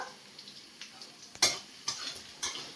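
Bay leaf and dried red chilli dropped into hot oil in a wok, giving a soft sizzle with several sharp crackling spits and light stirring clicks, close and fairly quiet, no talk.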